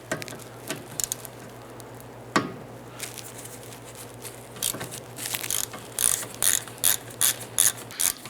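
A ratchet loosening the brake caliper bolts on a 2006-10 Honda Civic: scattered single clicks at first, then a steady run of rapid ratcheting bursts, close and fairly loud, over a low steady hum.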